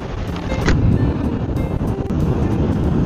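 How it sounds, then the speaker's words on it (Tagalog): Strong wind buffets a microphone outdoors in a steady, loud, broadband rush that surges and eases in gusts, with no other clear sounds. "Medyo malakas ang hangin."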